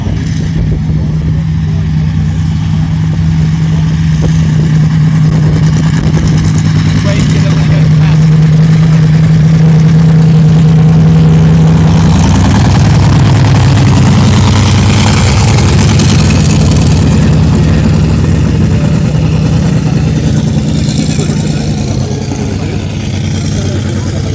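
A heavy 1,500-horsepower truck engine rumbles loudly and steadily at idle while warming up at a truck show, its deep drone shifting pitch midway as it revs slightly, with voices faintly underneath.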